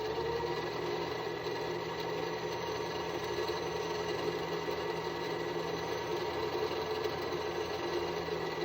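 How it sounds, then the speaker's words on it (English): Sewing machine winding thread onto its bobbin, a steady continuous motor whir with an even mechanical hum, close and unbroken throughout, no voices. "It should be filling the bobbin nice and evenly."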